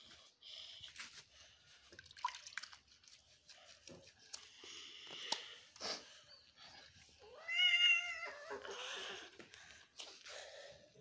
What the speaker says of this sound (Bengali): দেখো বিড়ালকে দেখাও